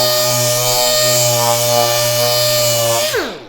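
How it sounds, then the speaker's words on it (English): A power sander running with 150 grit paper on pre-sanded wood, a loud steady motor whine held close for several seconds, then spinning down at the end, no voices. "Let me show you how we have 150 grit set up in our sander"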